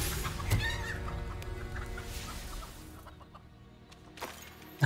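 Chickens cluck in Hogwarts Legacy during a Dark Arts Battle Arena fight, a busy run of close, fairly loud clucks over game ambience that thins out and quiets before a sharp burst at the end.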